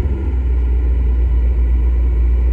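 A cold car engine idles low and steady, a loud, close, deep rumble that holds evenly for a couple of seconds with no voices.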